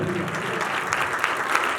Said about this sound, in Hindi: जोरदार ताली देंगे प्लीज